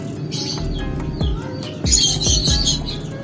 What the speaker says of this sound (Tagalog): Ganda mga ibon.